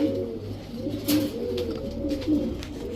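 Pakistani Gangchil Kaldom pigeons, a male and female pair, coo in low soft repeated calls throughout, close by, with faint bursts of wing or background noise.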